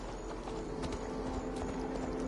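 Horse hooves in Assassin's Creed Valhalla clip-clop in a loose walking rhythm, several soft knocks over a steady game background hum, moderately close with no talk.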